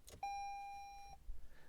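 A Toyota RAV4 chirps a single clear electronic beep when the key fob, its battery dead, is held against the stop-start button. The tone is steady and sustained for about a second, alone in a quiet cabin.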